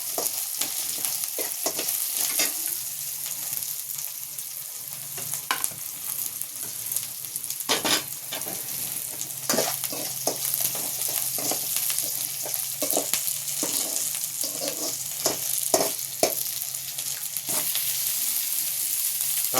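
Boiled pumpkin stirred into a hot tempering in a pan for a dry pumpkin poriyal, a steady close sizzle broken by repeated scraping strokes of the spoon, with no voices.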